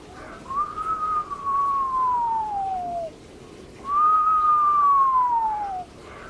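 A person whistles an imitation of the Togo slippery frog's call, a stream and waterfall species, giving two long, clear, gently falling whistles separated by a short pause.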